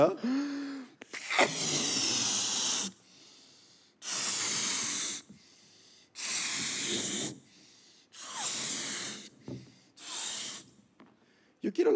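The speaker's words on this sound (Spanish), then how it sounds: "a ver si no me desmayo inflando estos globos" Several long breathy blasts of air rush into balloons being inflated by mouth, loud hissing bursts separated by short pauses and gasping intakes, with no speech during the puffs.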